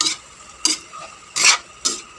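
Vegetables sautéing in a pan with a splash of soy sauce, heard as four short bright scraping, stirring bursts over a faint steady sizzle, close and alone with no talking.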